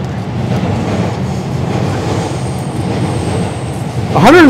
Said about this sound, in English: You can hear the train going by above.